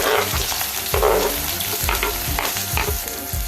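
Chopped onion fries in a little oil with mustard seeds and cumin for a banana stem kootu, sizzling steadily while a spoon stirs it in rhythmic scraping strokes, close and fairly loud.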